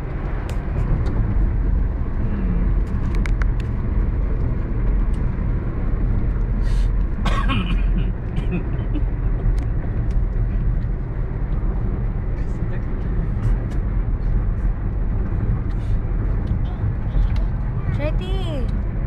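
A car drives along a road near Lipa in the rain, its steady engine and road noise filling the cabin throughout while people talk over it.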